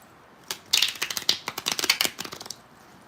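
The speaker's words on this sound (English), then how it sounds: "I was just shuffling this deck." A tarot card deck being shuffled by hand makes a quick run of crisp, papery clicks and riffles for about two seconds, close and alone.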